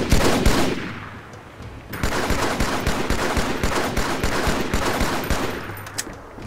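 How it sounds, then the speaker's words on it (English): The Battle Rifle in Halo 2 fires in quick, loud, close bursts of sharp rapid shots, repeated across the clip with brief pauses between the volleys. "Comparing the BR's firing sound to the Halo 2 beta's BR"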